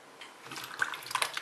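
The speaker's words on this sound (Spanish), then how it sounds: "Ahora le vamos a echar agua." Water is poured from a tap into a pot of pumpkin and potato soup, a short splashing trickle that starts faintly and grows louder and more gurgling over about a second.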